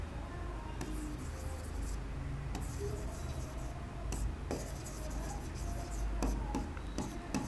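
Marker or chalk writing on a classroom board during a maths lecture, with continuous scratchy strokes and taps across the whole stretch, close and steady with no talking.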